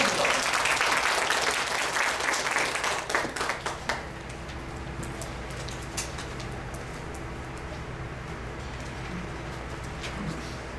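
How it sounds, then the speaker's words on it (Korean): A seated audience at a trade school lecture in Mexico claps loudly for about four seconds, the applause thinning into a few scattered claps before a quiet room with a low steady hum. "박수 부탁드립니다"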